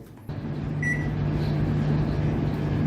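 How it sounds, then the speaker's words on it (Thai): A faulty Samsung microwave's turntable motor hums low and steadily, running as soon as it is plugged in, a faint brief beep-like tone rising above it near the start, with no voices. "มีเสียงมอเตอร์ทำงาน เป็นเสียงของมอเตอร์หมุนถาด"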